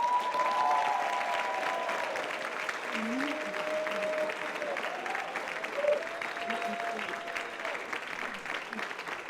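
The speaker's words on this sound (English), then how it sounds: "I want to roar and applaud for Elizabeth and her team for pulling this off" A conference audience claps steadily for several seconds, a broad crowd of hands with some cheering and faint voices rising through the applause.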